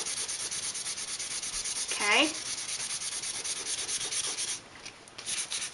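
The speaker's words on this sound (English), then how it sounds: "So you just keep sanding until you've covered the areas that you want to." Steady hand sanding on wood, a continuous rough scratching rub close by, with a brief spoken word partway through.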